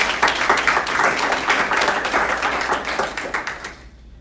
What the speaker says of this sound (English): Can we all give them a round of applause for their contributions?